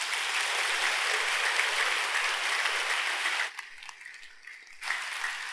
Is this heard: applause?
yes